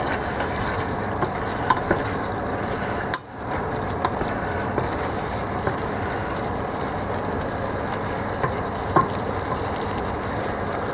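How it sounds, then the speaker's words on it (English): Goulash pot roast and its meat juices being stirred in a pot, giving a loud, dense, continuous sizzle and bubbling with a brief dip partway through. "Stir it nicely."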